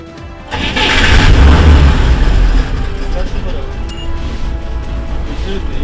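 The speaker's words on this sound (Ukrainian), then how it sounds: "Працює двигун як годинник" An armored vehicle's engine starts with a loud rumbling surge, then settles into a steady idle, and a voice talks over it.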